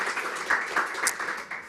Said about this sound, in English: please join me in a round of applause for the panellists who've joined us.